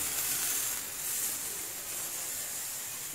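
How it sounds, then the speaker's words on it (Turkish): Milk boiling in a pot on a home stove while gözleme flatbreads cook nearby, a steady close hiss and gentle bubbling that holds at an even level throughout, with no talking. "Sütüm de hala kaynıyor."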